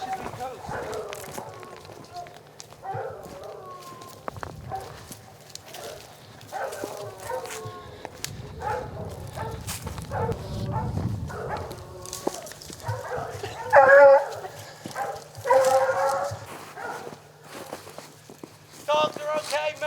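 Hunting dogs on a mountain lion hunt in rough country, yips, whimpers and barks coming in scattered bursts, with a louder flurry near the middle, mixed with footsteps and people talking.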